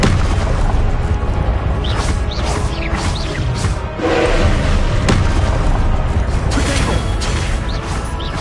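Repeated blasting-spell explosions from Confringo in Hogwarts Legacy, a dense run of booming crashes and sharp magical bursts layered over game action, with faint voice sounds mixed in.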